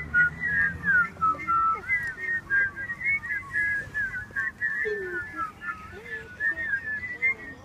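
A school class whistles a Danish birthday song together, a bright, wavering group melody in short phrases with breaths between them and faint voices underneath.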